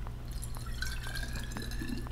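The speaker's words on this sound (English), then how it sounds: "let's start slowly adding water into the bottle" Water trickles and drips from a measuring cup into a bottle for a musical bottles demonstration, a soft, close, steady pouring sound with small droplet plinks and a faint low hum underneath.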